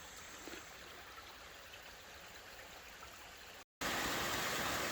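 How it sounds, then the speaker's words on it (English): Small babbling brook beside the Poo Poo Point trail flows as a quiet, constant rush of water with a brief dropout near the end, followed by a louder burst of the same wash. "A little babbling brook and a small bridge that goes over it."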